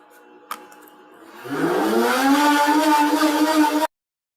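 A voice imitates a race car engine with a rising, revving buzz that climbs in pitch and holds steady for about two seconds before cutting off abruptly.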